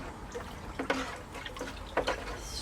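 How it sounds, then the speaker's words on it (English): Worm tea is stirred in a container of water, soft sloshing and liquid swirls with a couple of brief splashy movements, quiet and close with no talking. "So I am going to now give my tea a stir."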